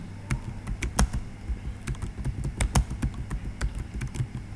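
Typing on a computer keyboard while filling in a document, with quick, irregular clicky keystrokes, some sharper than others, close and fairly quiet over a low background hum, with no voices.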